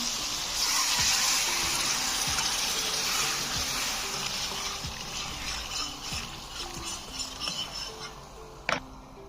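Pre-heated water pours steadily into a cooking pot for aloo tahri, a potato rice dish, making a continuous gushing splash with faint ticking clicks beneath and a sharp knock near the end.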